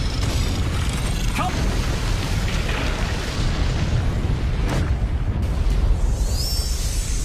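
A deep, sustained rumbling roar from an exploding fire-god crystal in the animated series Swallowed Star fills the whole clip, loud and close, like a massive explosion rolling on, with a brief high whine near the end.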